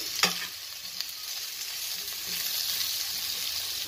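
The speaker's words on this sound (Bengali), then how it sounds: "উল্টে পাল্টে দিয়েছি, খুব বেশি ভাজা নয়, সামান্য।" Green jackfruit pieces for biryani are turned and stirred with a spatula in a frying pan, giving a steady close sizzle with a couple of soft scraping knocks, without talk.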